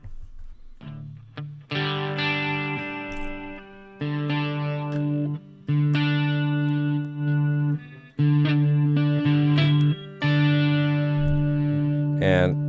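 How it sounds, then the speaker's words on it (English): An electric guitar through an amp simulator strums a run of sustained chords with a shimmering, slightly detuned chorus effect, each chord ringing out before the next. "Or maybe some chorus."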